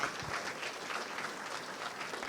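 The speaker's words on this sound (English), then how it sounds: "A round of applause and thank you for the Daniel family and to Yakoved" An audience at an evening fundraiser gives a steady round of applause, a dense, even patter of many hands that holds at a fairly soft level throughout.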